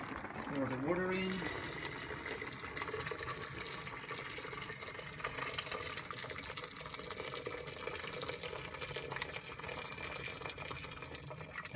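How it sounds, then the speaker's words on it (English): Water gushes steadily into a pot for ham risotto, a continuous close rushing pour lasting throughout, with a voice talking briefly at the start. "Pour the water in."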